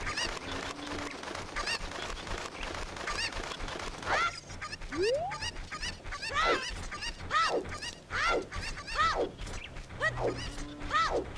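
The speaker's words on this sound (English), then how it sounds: "I instinctually know where every single one of these cuckoos are" Cucco chickens from Zelda: Ocarina of Time give a run of squawky, honking clucks, several repeated calls rising and falling over a steady game backdrop.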